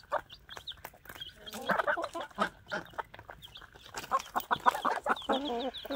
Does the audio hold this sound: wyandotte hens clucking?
yes